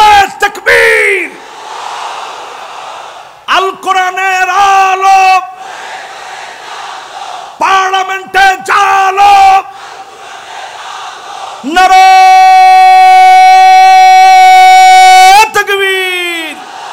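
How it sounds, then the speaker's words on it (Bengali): A large crowd at an Islamic religious gathering chants the slogan Nara-e-Takbir in loud, rhythmic call-and-response bursts over an amplified sound system, with a lead voice alternating with massed shouted replies. "স্লোগান চলবে নারে তাকবীর, আল কোরআনের আলো"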